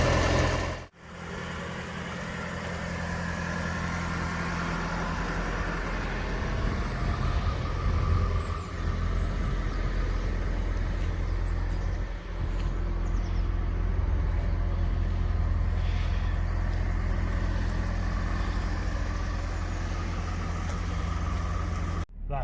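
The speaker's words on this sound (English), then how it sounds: "That's a really lovely smooth engine, that is." A freshly started car engine idles smoothly nearby, a steady low rumble that holds even and unbroken for the whole stretch.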